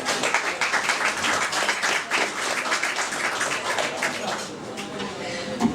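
An audience at a Jacob's Pickles event applauds a speaker as he comes out, steady dense clapping with a few cheers throughout.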